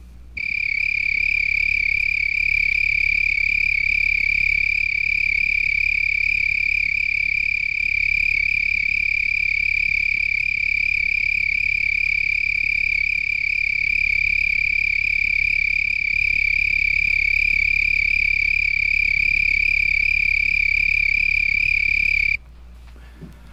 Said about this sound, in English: Another tree cricket found on weeds is a broad-winged tree cricket, Oecanthus latipennis